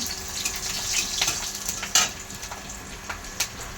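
Jute greens (pat shak) frying in a hot pan, a steady crackling sizzle with a few sharper pops and stirring scrapes, close and continuous with no talking.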